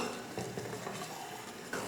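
A spoon scrapes and swishes around inside a metal pot, dissolving jaggery in water, in quick, continuous stirring strokes, close and moderately loud, with no talking.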